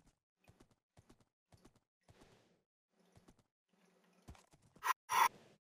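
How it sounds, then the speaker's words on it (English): Horse hooves clip-clop in an ultra-hard survival video game, a steady run of light, dry taps that speeds up, followed by a couple of louder, brighter bursts near the end. "Yep, horse."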